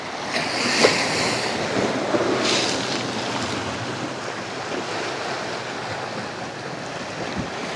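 Steady roar of surf rolling onto a beach at Ternate, Cavite, Philippines, broadband and continuous, with strong gusty wind buffeting the microphone throughout.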